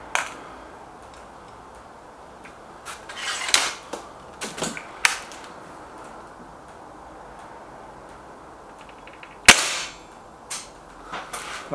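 A single sharp crack from a Hatsan 900X Breaker air rifle firing during target shooting, stands out near the end over a quiet outdoor background with a few scattered small clicks and knocks before it.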